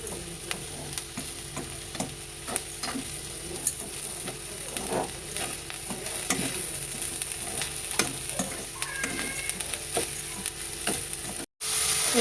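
Coconut and sugar stirred in a pan for coconut candy, a steady scraping stir with a soft sizzle underneath, close and continuous.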